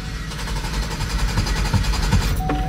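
A truck engine struggles to start, giving a rapid, rough, sputtering clatter up close that carries on without a break for a couple of seconds.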